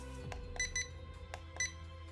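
Two quick high-pitched electronic beeps from a remote control transmitter for a quad rotor, then a pause and another pair, clear and close over a low background hum.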